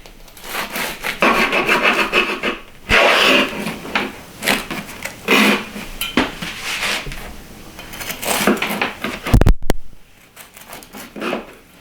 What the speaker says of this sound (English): this is the cameraman's favorite part of the video where I slice the bread